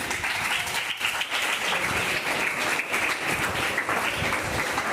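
A school classroom claps for a student, a dense burst of many hands close by that stays lively and even for several seconds.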